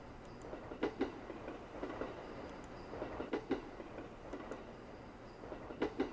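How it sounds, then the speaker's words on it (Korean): A train waits at a station in the Japanese ghost-story horror game Yurei Station. It gives a low rumbling drone with a rhythmic clickety-clack of wheels over rail joints, paired thumps repeating about every second and a half, at moderate, slightly distant level. "기차가 나를 기다리고 있었다."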